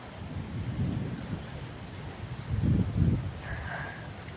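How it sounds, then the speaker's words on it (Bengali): Thunder rumbles low and steady through a rainy storm, swelling into louder rolling peaks midway, with rain hiss beneath and a faint brief sound near the end. "বৃষ্টি হচ্ছে তো গাইস"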